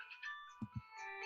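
A phone ringtone plays a steady, electronic melody of sustained tones, continuing throughout. It is interrupted by two soft, low thumps close together near the middle.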